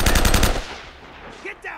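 Rapid automatic gunfire from Uncharted: Drake's Fortune comes as a dense, loud burst of shots for about half a second, then fades into a faint tail with a couple of brief softer game sounds.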